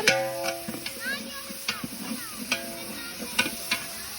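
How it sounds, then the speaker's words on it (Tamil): Mutton biryani masala fries with yogurt stirred in, in a large batch cooked outdoors on a mango farm. A spoon makes intermittent scrapes and knocks against the pot over a soft sizzle, and faint background voices and tonal sounds can be heard. "ஓகே அப்படியே வதக்குங்க நல்லா."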